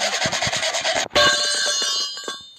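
Sawing at someone's legs in a Roblox roulette game: a rhythmic series of rasping back-and-forth strokes, loud and close, followed by a sustained grinding rasp with a ringing metallic edge that tails off.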